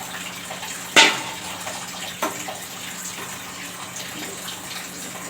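Water pours into a pan of masala egg curry, a steady close rushing hiss with one sharp splash as it starts and a smaller one shortly after, with no talk.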